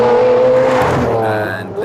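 A modified Lamborghini Aventador supercar built by SB Race Engineering roars loudly nearby, a steady high engine tone sweeping down and fading as it passes, with a faint voice underneath.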